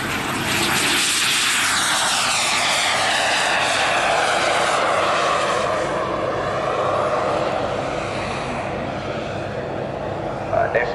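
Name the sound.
radio-controlled model aircraft flying at airshow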